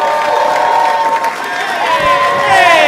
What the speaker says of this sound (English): I took extra long to see if you would keep clapping.